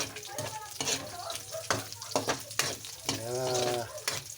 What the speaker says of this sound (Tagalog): Kailangan po ay medyo brown ang konting karne para masarap sa pakbet